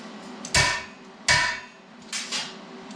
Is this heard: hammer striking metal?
yes